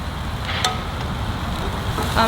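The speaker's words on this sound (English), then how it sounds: "we're gonna start stir frying in the mushrooms as well" Steady sizzling and crackling of mushrooms stir-frying in a pan, with occasional scraping of a utensil stirring, continuous and close.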